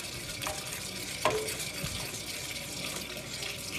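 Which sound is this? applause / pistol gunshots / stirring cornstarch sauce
stirring cornstarch sauce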